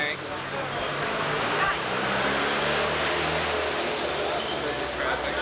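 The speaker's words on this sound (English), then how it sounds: "That's a busy traffic." Busy downtown street traffic in Bridgetown, Barbados, a steady broadband wash of passing vehicles and outdoor bustle that holds at an even, moderate level throughout, with no speech heard.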